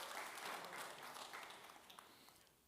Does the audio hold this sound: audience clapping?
yes